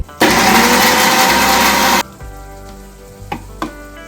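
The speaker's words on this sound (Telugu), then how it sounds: "మిక్సీ పట్టేద్దాం వీటిని" A mixer grinder grinding cashews into a paste roars loudly for about two seconds, then cuts off, followed by a couple of faint clicks.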